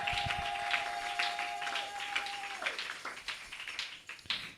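In a church service, the congregation claps for Jesus with scattered, uneven hand claps, while a sustained tone fades out partway through.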